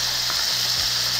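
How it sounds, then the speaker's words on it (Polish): Chicken fries in a pan pressed down under a brick, giving a loud, close, continuous sizzle with faint crackles and no talk. "mięso się równiutko smaży"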